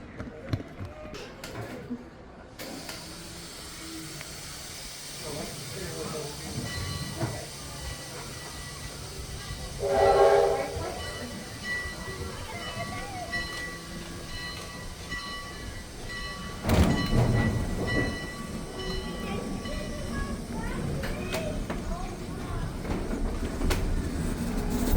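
A steam locomotive rolls along with a steady rumbling clatter heard from aboard the train, swelling in two brief louder surges, with faint voices in the background.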